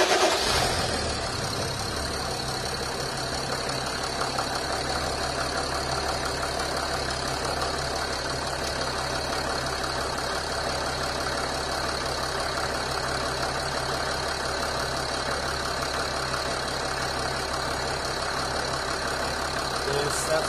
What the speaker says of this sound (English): so I'm just gonna start the car